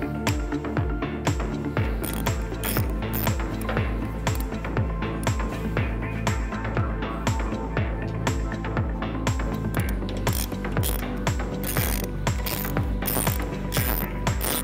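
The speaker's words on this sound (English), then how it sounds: "We tighten these until they are hand tight." Locking bolts on the housing of a Q-Flap RX explosion vent are tightened, giving a rapid run of sharp metallic ratcheting clicks in quick rhythmic bursts, close up and without speech.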